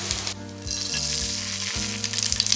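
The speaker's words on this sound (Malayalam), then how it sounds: "ഓയിലൊന്ന് ചൂടായാൽ ഇതിലേക്ക് വേപ്പിലിട്ട് കൊടുക്കാം." Curry leaves hit two teaspoons of hot coconut oil in a pan and crackle into a bright, continuous sizzle, close and fairly loud, with soft background music underneath.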